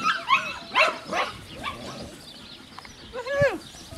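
A six-and-a-half-week-old black-collar male puppy gives high, thin yips and whimpering barks, several short bursts close by with a whiny rising cry near the end.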